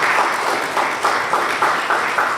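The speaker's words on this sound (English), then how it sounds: "please can we continue to give him a round of applause?" A crowd at a Nigerian Bar Association legal education session applauds as a judge is ushered to the high table, dense continuous clapping with a few louder bursts, no speech over it.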